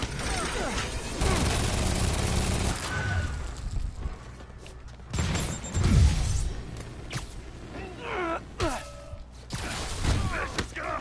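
Gunfire and mechanical clatter from the Spider-Man video game, where enemies use APCs, rocket launchers and miniguns, come as loud bursts and thuds with whooshes, broken by gaps, while voices talk over the action.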